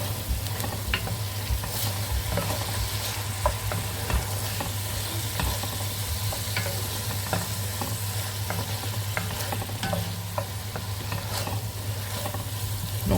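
Onions fry in a pan, giving a continuous close sizzle with frequent light stirring clicks and scrapes over a low steady hum, with no voices.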